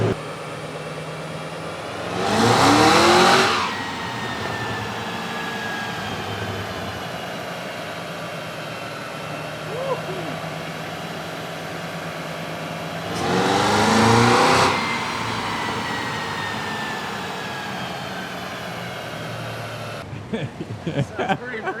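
A Cadillac CT5-V Blackwing on a dyno gives two loud, rising revs about ten seconds apart, each dropping back to a steady mechanical drone between them.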